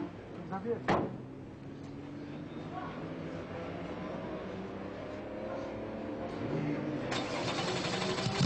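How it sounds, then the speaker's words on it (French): A Porsche race car engine cranks and catches near the start, then settles into a steady mid-pitched rumble that grows slightly louder toward the end, with another sharp burst near the close. "Les Porsche sont fiables, un coup de démarreur et ça repart."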